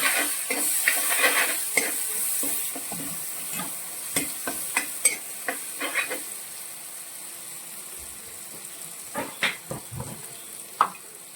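Chili and black pepper powder stirred into hot oil for a spicy chicken curry, a steady sizzle broken by irregular scraping clicks of the spoon against the pan, with no talking.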